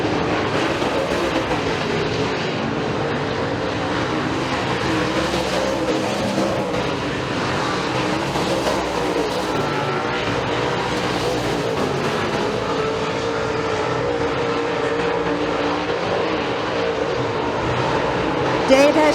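Race cars roar steadily around a raceway oval during a heat, a continuous loud engine drone that stays dense and unbroken throughout, with an announcer calling the race over it.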